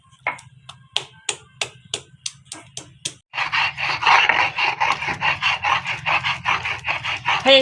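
A stone grinder rubs and rasps back and forth over leafy greens being ground to a paste, first in short separate strokes and then in a fast, continuous rhythmic scraping, close up and loud.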